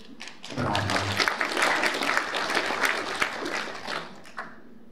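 A crowd at a rural women's association tournament in Silesia breaks into steady applause for several seconds, clapping dense and fairly close, with a voice briefly heard at the start.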